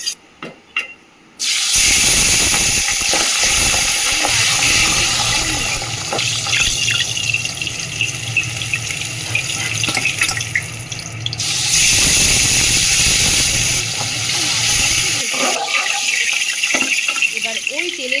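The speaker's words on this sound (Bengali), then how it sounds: "আমি অল্প অল্প করে মাছ দিয়ে ভেজে তুলে নেব।" Pabda fish frying in hot oil in a wok: a loud, steady spraying sizzle that runs almost continuously, dipping briefly before swelling again, then fading at the end.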